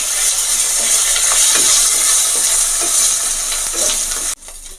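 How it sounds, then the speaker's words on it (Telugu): Ginger garlic paste and onions fry loudly in a pan, a dense close sizzle with scraping stir strokes, and it cuts off sharply near the end, with no voices. "తర్వాత అల్లం వెల్లుల్లి పేస్ట్ వేసుకోండి పచ్చివాసన పోయే వరకు కలుపుకోండి"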